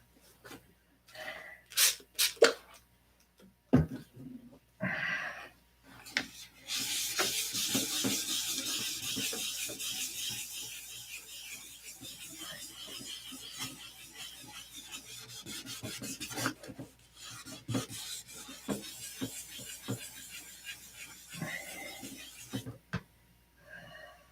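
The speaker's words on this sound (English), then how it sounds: "One more sanding and then we'll buff, rub." Fine sandpaper rubs back over paint touch-ups, first in short separate strokes, then in a long continuous rasping stretch, close and fairly quiet, ending in a few more brief scrubs.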